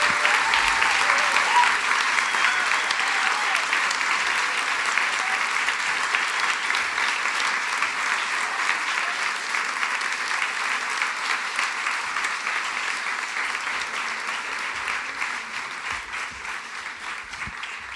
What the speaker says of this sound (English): please welcome with a big applause